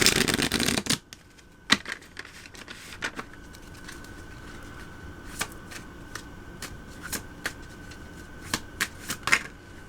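A deck of tarot cards is shuffled, opening with a dense riffle burst followed by a series of sharp, scattered card snaps and slaps at an uneven rhythm, close and fairly quiet.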